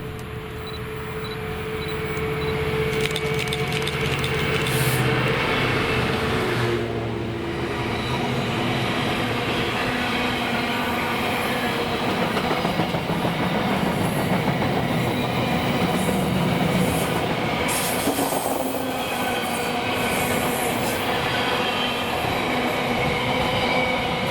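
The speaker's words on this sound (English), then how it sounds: "first 4L82, the 1633 Coatbridge to Felixstowe North, passing here 1840 with 66-511 in charge" Class 66 diesel locomotive 66-511 hauling an intermodal freight from Coatbridge to Felixstowe past a trackside spot on the East Coast main line, a long continuous roar of engine and rolling wagons with rhythmic wheel clatter and brief squeals throughout.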